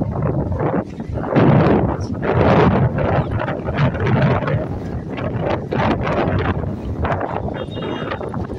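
Strong wind blowing at Sukhna Lake in Chandigarh, loud gusting buffets striking the microphone in uneven surges and lulls, close and rough throughout.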